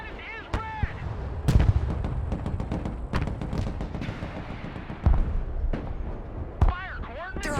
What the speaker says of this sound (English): Their artillery fires volley after volley without repositioning.